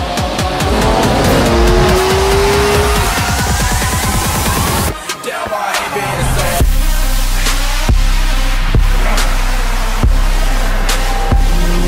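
A car engine revs hard and tires squeal and skid in a loud, continuous run, then after a short break the car roars off with repeated sharp shifts and revs, close and dominant throughout.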